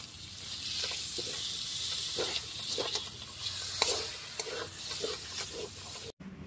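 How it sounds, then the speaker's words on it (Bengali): Kashmiri red chili powder sautéing in a pan for mutton curry, giving a steady, fairly quiet sizzle with soft scraping stirs throughout and a brief dropout near the end. "দিয়ে দিচ্ছি কাশ্মীরি লঙ্কার মানে রেড চিলি পাউডার। ভালো করে একটু কষিয়ে নেব।"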